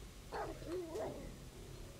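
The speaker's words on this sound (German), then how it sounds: "Zumindest Hund gehört, ne?" A dog in the 7 Days to Die video game lets out a few short yelping barks, faint and somewhat distant, over a low steady background hum with no talking.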